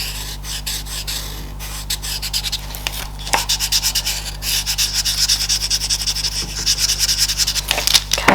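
Pastel pencil blending on paper while drawing a bulldog's ears: a steady, close dry rubbing and scratching with quick back-and-forth strokes, continuous over a low background hum.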